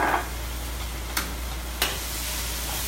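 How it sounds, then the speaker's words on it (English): Protein and vegetables stir-fried together in a wok give a steady low sizzle, with two sharp scraping clacks of a utensil against the pan. "How about we stir fry everything together?"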